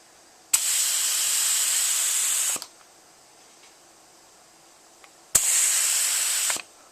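Two bursts of spray hiss as Duracoat is sprayed onto an AR lower receiver, each a couple of seconds long, starting and stopping sharply with a quiet pause between.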